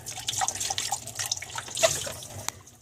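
Water runs and splashes as a watercolor basin is rinsed out in a sink, a steady close trickle with small drips, no talking.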